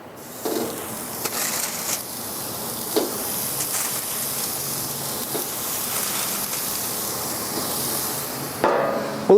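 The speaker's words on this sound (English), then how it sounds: "I'm gonna go ahead and put these hamburgers on now" Hamburger patties laid on a hot electric grill, giving a steady, broad hiss and sizzle with a few soft clanks and taps of handling, then a louder clatter near the end.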